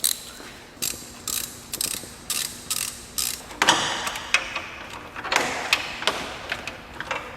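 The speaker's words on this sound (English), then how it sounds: "I'm gonna use a swivel socket." Repeated bursts of ratchet clicking from a swivel socket loosening a fastener on a 2001 GMC Sonoma 2.2L engine being replaced, short close clattering strokes in a steady rhythm, no talking.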